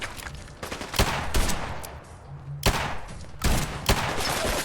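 Loud, sharp gunshots in Fallout 4, fired as several separate blasts and short bursts at irregular intervals, each with a brief echoing tail against a quieter game background.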